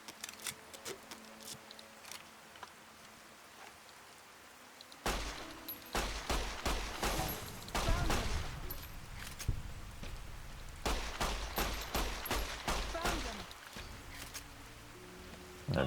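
Pistol gunfire in Fallout: New Vegas, Honest Hearts add-on, rapid clusters of sharp shots in two bursts after a quieter start, moderately loud over game ambience.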